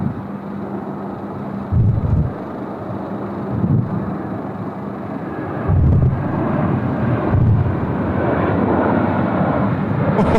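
A Malaysian airliner inbound from Kuala Lumpur lands on Sydney Airport's runway 16 right, a loud, broad engine roar with gusting wind buffeting the microphone, swelling in several surges and no voices.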